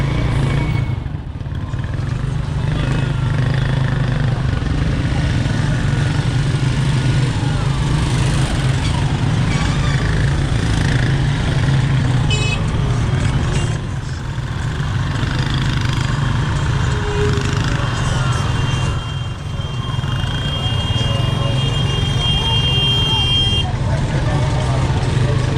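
Congested roadside traffic in Zambia, with lorries and other engines rumbling steadily and loudly, a few horn toots cutting through, and voices mixed into the constant din.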